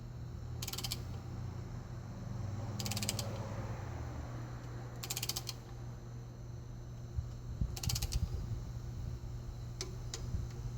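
A ratcheting wrench re-torques the head bolts of a 3.0L MerCruiser engine after first startup, four short bursts of clicks a couple of seconds apart over a steady low hum, faint and close.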